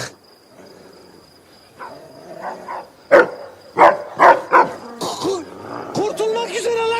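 Several dogs bark in sharp, loud bursts, a few close together, with growly, howling tones and background noise between them.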